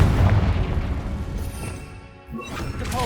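The Confringo blasting spell in Hogwarts Legacy sets off a loud, booming explosion that rumbles and fades, followed by a sharper crack and crackling debris near the end.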